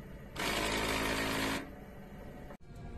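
An eco solvent printer runs a head cleaning cycle with the print head on its capping station, giving a loud, steady mechanical whirring burst of about a second, followed by quieter background hum and a brief click.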